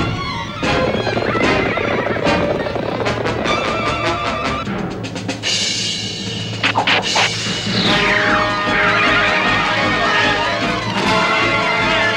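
Horses neigh and whinny loudly amid clattering hooves and crashing commotion as a barn burns in a Zorro cartoon, a busy, chaotic scene with several animals close by.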